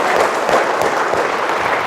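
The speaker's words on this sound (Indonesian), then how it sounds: "Tepuk tangan semua" An audience at a lecture claps together in a brief burst of dense, even applause, close and sustained for about two seconds.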